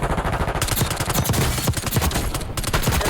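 SMG fire in the shooter Black Ops 6: dense, continuous rapid bursts of automatic shots, loud and close, with overlapping fire packed throughout.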